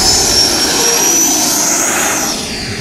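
RC model jet with an 8-cell FMS 1500kV motor taking off, a loud steady high-pitched whine that rises slightly in pitch and then eases as it pulls away.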